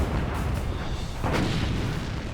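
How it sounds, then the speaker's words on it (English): A World War II battleship firing its 14-inch guns in a broadside, a heavy continuous roar of deep booms with one sharper blast standing out partway through, loud and dense with no voices. "We were firing broadside."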